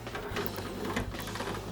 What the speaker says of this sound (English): then we just slide the door back into position.